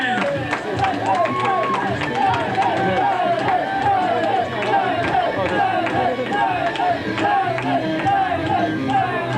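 A dense wrestling crowd at an RWA event roars and chatters continuously for the wrestler Black Diamond, with many overlapping voices filling the hall at steady, loud volume.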